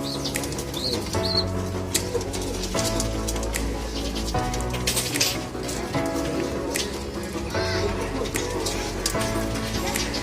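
Pigeons in a loft peck and flutter while being fed, with soft scattered tapping and repeated bursts of flapping wings close by over a steady background.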